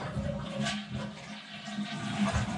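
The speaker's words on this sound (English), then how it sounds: "And then your toilet flushes." A toilet flushes in an Earthship home, giving a continuous rushing, gurgling swirl of water that stays loud and close throughout, with no talk over it.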